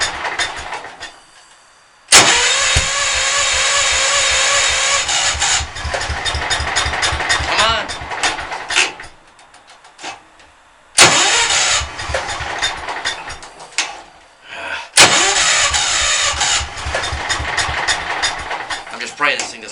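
An old engine with a cold block is cranked by its starter in loud bursts, catching and running roughly between pauses, close and loud in an enclosed space with people talking.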